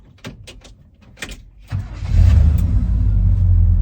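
A car engine starts after a radiator install. A few clicks and clunks come first, then the starter catches and the engine fires, settling into a loud, steady idle close by.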